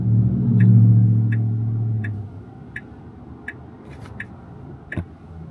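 A Tesla Robotaxi's hazard lights tick inside the cabin at a steady pace, about eight crisp clicks at even intervals, heard first under a low rumble of the car that then fades away, leaving the ticks clear and close.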